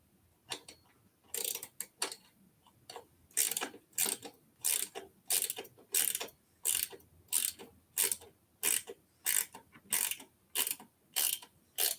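A ratchet wrench with a 10 mm socket working on the front light of a Juiced RipRacer e-bike, giving a steady series of close, crisp clicking bursts repeating about once a second, with no talking.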